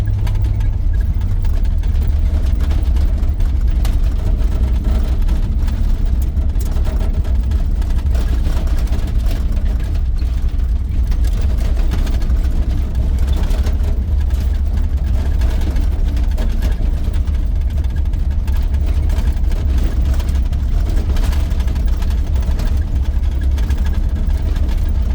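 An old one-ton two-wheel-drive farm truck engine drones steadily while driving off-road, a loud, continuous low rumble with rough, uneven texture and no breaks for the whole stretch.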